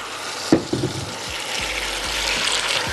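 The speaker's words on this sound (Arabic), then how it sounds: "شوحت في زيت زيتون الطماطم والبصل" Sliced tomatoes drop into tomatoes and onions sautéing in olive oil, a couple of sharp thumps and splatters followed by a rising, steady sizzle up close, with no speech.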